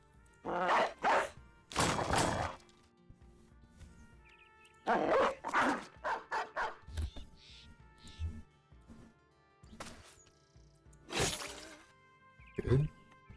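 Dogs barking in the video game Battle Brothers, several short yelping barks in bursts with pauses, under someone talking.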